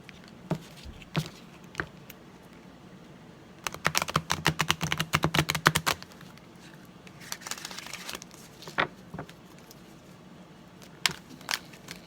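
A new, stiff deck of oracle cards is shuffled by hand, with a rapid flurry of crisp card flicks in the middle and scattered single snaps and rustles before and after, close and fairly quiet.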